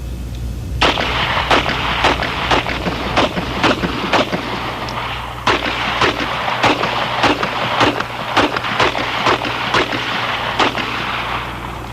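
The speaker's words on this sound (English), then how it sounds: "A 9mm pistol will be fired at each flat surface at varying distances" Shots from a Beretta Model 92 SBF 9mm pistol fired at flat target surfaces, a long series of sharp, loud reports spaced roughly half a second to a second apart over a steady low background rumble.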